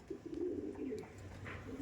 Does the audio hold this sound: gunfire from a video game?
no